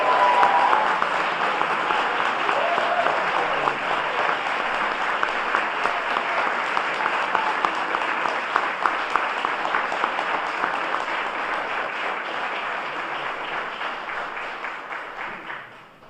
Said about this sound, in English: can we have a big round of applause for the 9 new City of Erie policemen